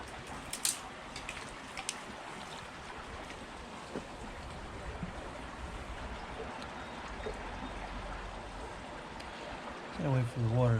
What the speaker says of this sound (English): Gotta wait for the water to finish moving.